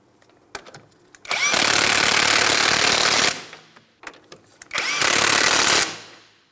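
A power tool runs down the axle seal nuts on a 2004-2008 Pontiac Grand Prix front left transmission axle, in two loud, sustained bursts of steady mechanical rattling separated by brief quieter clicks.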